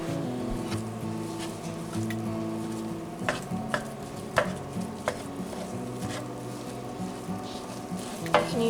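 Jimmy Dean sausage sizzles and crackles steadily in a pan for a country breakfast pie, a close, continuous frying hiss with a few sharper pops and clinks of utensils.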